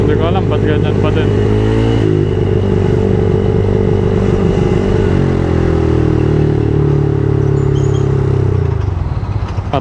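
Honda Click i125 scooter engine idling roughly at close range, a loud, steady low rumble with slight surging that keeps threatening to die, with no talk over it.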